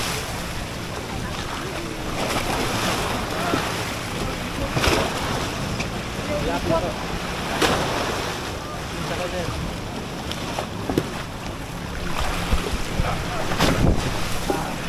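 A small boat off Camiguin Island pounding through strong waves, with steady engine and wind rumble and repeated slaps and splashes of waves against the hull.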